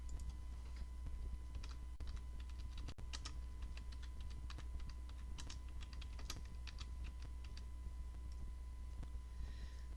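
Quiet, rapid keystrokes on a computer keyboard as a reward name is typed, a close, soft run of clicks over faint background hum.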